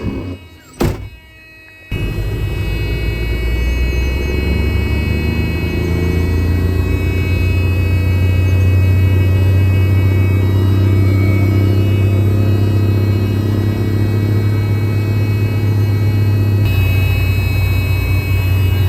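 A Can-Am X3 side-by-side with a turbo choked by ice runs loud and close: a couple of brief thunks and a short gap, then a steady, heavy engine rumble that holds with little change to the end.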